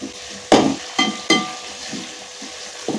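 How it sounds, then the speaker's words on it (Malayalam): A spatula stirs softened onion with crushed ginger and garlic in a frying pan: three sharp scraping strokes close together over a soft sizzle, then quieter stirring and one more scrape at the end. "ചട്ടുകം കൊണ്ട് ഇളക്കി കൊടുക്കുക."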